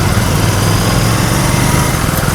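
Royal Enfield GT 650 motorcycle engine running steadily up close, a continuous dense rumble with a throbbing low end and no pauses, heard on its own without voices.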